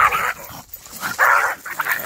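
An old dog barks and yips at an outdoor camp, a few sharp close barks in short bursts with brief pauses between them.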